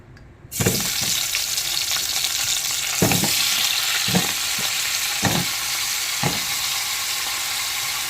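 Sweet potatoes hit hot ghee and a loud, steady sizzle starts, broken by several evenly spaced knocks of stirring.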